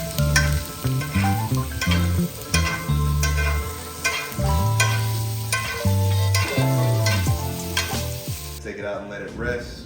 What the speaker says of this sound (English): Add butter and a few garlic cloves. Once it's melted, you can go ahead and start basting it.